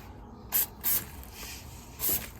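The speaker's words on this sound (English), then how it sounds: "we'll go ahead and hit this thing with some brake cleaner" Brake cleaner sprayed from an aerosol can onto a Porsche 996 engine: four short, sharp hissing bursts, close and fairly loud, separated by quiet pauses, with no talking.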